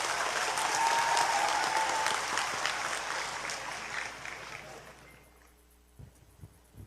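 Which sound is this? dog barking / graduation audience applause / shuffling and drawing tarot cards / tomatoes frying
graduation audience applause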